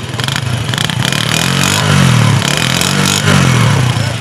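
A used motorcycle at a second-hand Friday bike market starting and idling, a loud, close engine with a steady mid-pitched rumble that swells with a couple of revs.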